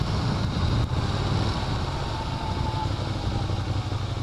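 Ducati Monster 1200 sport bike from 2014 rumbling steadily on a demo ride, a broad continuous engine drone with wind noise, no talk.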